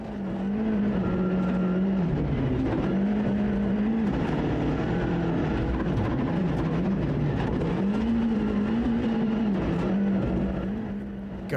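A rally car driven hard on a snowy WRC Sweden stage, engine loud and close with rising and falling revs through gear changes, sustained roar throughout with no voices.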